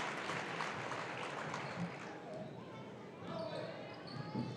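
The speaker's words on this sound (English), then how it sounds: "Hear the applause for Natalie Kurt Jr. going to the bench" A crowd at a girls' high school basketball game, Center Grove against New Palestine, applauds a player heading to the bench, a soft, distant patter of clapping with gym noise and a voice over it.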